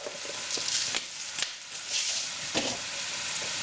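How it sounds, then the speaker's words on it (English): Penne pasta and a big pinch of salt go into a pot of salted boiling water, giving a close, continuous bubbling hiss broken by a few sharp splashes and clinks, with no talking. "add that to my boiling water."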